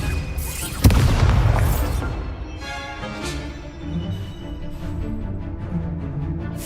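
A Confringo spell explodes in the Hogwarts Legacy video game with one sharp, heavy boom near the start, followed by a rumbling tail and softer magical effect sounds.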